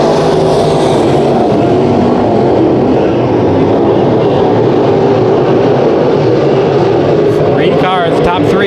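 Race cars roar around Bakersfield Speedway during heat races, a loud continuous engine drone with cars passing close, under a commentator's ongoing talk.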